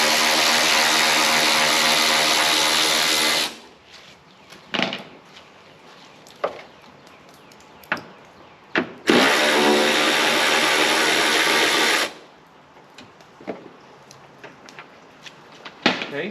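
A power tool whirs loudly on 10mm headlight bolts on a Hyundai or Kia, running steadily for about three seconds, then again for about three seconds mid-clip, with quieter clicks and handling sounds between the runs.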